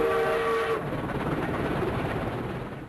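A small toy train circles its track in a lab where a baby watches, a short whistle-like tone at the start giving way to a steady rattling, clattering roll that continues evenly and fairly close.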